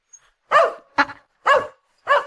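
A dog barks four times in quick succession, loud and close, with short gaps between the barks and nothing else around.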